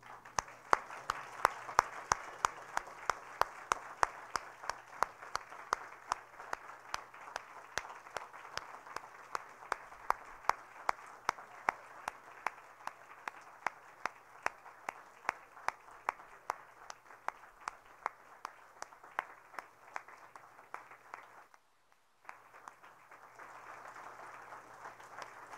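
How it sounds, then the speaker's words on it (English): A courtroom audience applauds as new Superior Court judges and family support magistrates enter their swearing-in ceremony. The clapping is steady and sustained with crisp individual claps, briefly dropping out before resuming more softly. "And if you feel like applauding"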